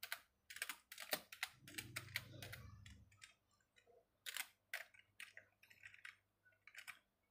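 Someone types on a computer keyboard while entering a command: bursts of quick, crisp key clicks close to the mic, pausing briefly between runs, with a low hum underneath during part of it.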